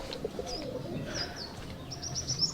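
Giribaj pigeons coo softly outdoors, low murmuring calls mixed with faint chirps and a hint of fluttering, moderately distant against a quiet background with no talk.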